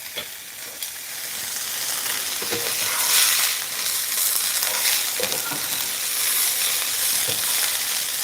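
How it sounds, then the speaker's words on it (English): Chinese long beans sizzling in a stir fry with soy sauce and sugar, a continuous bright hissing fry with occasional stirring clatters, close and steady with no talk. "Yeah, I'm enjoying that sizzle."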